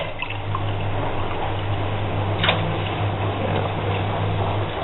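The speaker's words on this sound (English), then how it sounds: "once you've added the water to the rice" Water pours steadily into a pot of long grain rice for saffron rice, a continuous close trickle with a low hum underneath and one brief splashy burst partway through.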